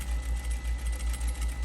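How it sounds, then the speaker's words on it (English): A sewing machine stitches along the rolled hem of a market tote, giving a close, steady mechanical thrum with a regular pulsing beat of about five cycles per second throughout the short burst. "I can sew right on the roll hem if I want to"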